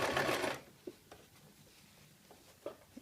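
A sewing machine stitches a small circle skirt in a short loud whirring run, then falls quiet apart from a few soft close clicks and taps of fabric handling.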